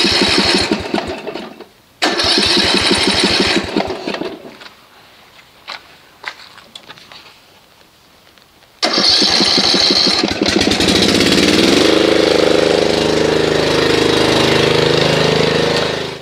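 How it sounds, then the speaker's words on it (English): A Snapper Comet rear-engine riding mower is cranked on its battery, rapid rhythmic starter chugging in bursts, then the small engine catches and roars loud and close, settling into a steady running drone. "Let's see if the battery is gonna turn this over."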